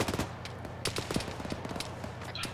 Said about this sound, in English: I'm hearing some sort of heavy gunfire.